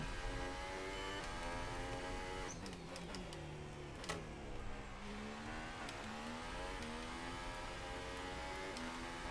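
A Formula 1 car engine from the F1 2018 racing game revs and drops through gears, with rising and falling tonal whine and sharp pitch shifts at each downshift. The engine sits close and fairly quiet, with no talk over it.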